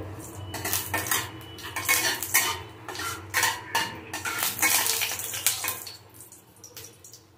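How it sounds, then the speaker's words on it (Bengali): Spoon scraping and clinking against a metal pan as spices and black mustard seeds are stirred, a steady run of close, rhythmic metallic strokes with a low background hum. "মশলাটাকে নাড়াচাড়া করব।"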